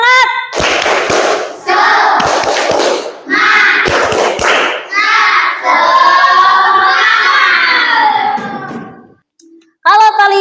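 A school class does a tepuk semangat rhythmic clapping ice-breaker, with bursts of loud group clapping in patterns alternating with the students chanting together, close and energetic, followed by a brief pause and more clapping.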